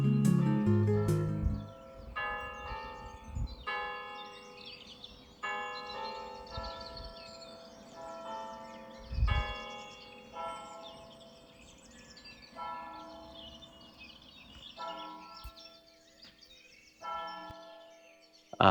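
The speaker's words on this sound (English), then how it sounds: "Quite handy hearing those bells." The stone church of St Remigius rings its bells across a village lane, a steady sequence of tolling strikes heard from some distance, with birds chirping in the background.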